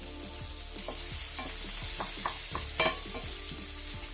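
Chopped onions hit hot oil in a pan while jerk salmon rasta pasta is being made, setting off a steady sizzle broken by scraping stirs and small clicks of the utensil against the pan.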